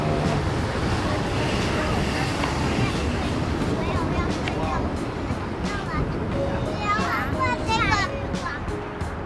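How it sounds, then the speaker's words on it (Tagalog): Cold wind blows hard outdoors on a trip from Tokyo toward Mt. Fuji, a steady rushing roar buffeting the microphone as voices chat over it. "Mahangin guys, ang lamig."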